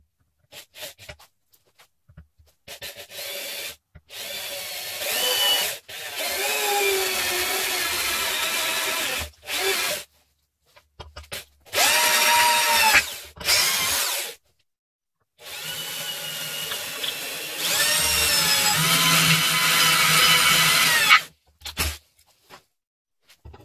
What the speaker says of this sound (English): I've drilled bigger holes because I have some play, so I can adjust a little bit.